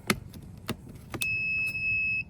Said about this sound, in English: the beeping was from my auto present door handles